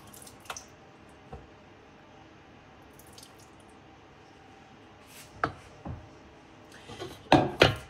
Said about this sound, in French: Je vais enlever l'eau des amandes.